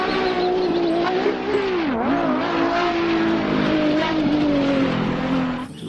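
A toy race car gives off a steady, loud engine-like drone that stays continuous for about six seconds and dips once in pitch partway through before a brief falloff at the end.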